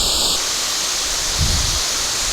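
Steady broadband rush of the Sumuran waterfall on the western slope of Mount Telomoyo, a continuous even roar filling the whole clip with no talk over it.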